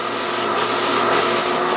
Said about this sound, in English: I just sanded a couple spots